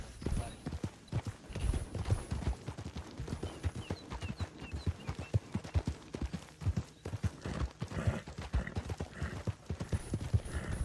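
Horse hooves clip-clopping in the game Red Dead Redemption 2, a quick, steady trotting rhythm throughout, with someone talking over the hoofbeats.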